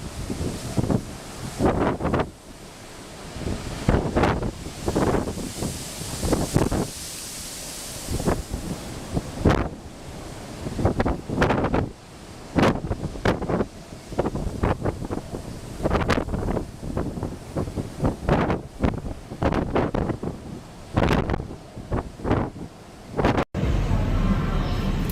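Aboard the cruise ship Queen Elizabeth on her maiden transatlantic crossing in very rough seas, strong wind buffets the microphone while heavy waves surge and crash in repeated loud bursts, with voices heard faintly at times.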